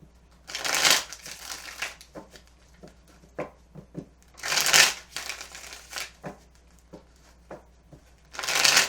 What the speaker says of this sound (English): Okay, let's start shuffling.